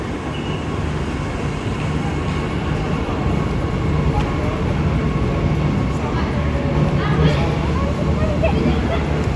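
A local train pulls out of a station on a long-distance rail trip between Bandung and Surabaya, making a steady, continuous rumble close by that builds slightly as it moves off, with no clear voice over it.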